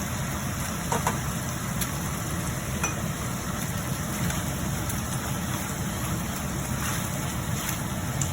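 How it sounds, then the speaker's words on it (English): Beef for Filipino beef tapa sautés in a pan, a continuous close sizzle of frying with occasional faint stirring scrapes, steady and unbroken. "You just want to saute off the beef so it has that nice shiny gloss on it"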